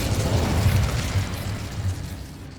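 A burst of fire from the Incendio spell in Hogwarts Legacy on PS5: a loud, rumbling whoosh with heavy low-end roar that holds steady for a couple of seconds, then slowly fades.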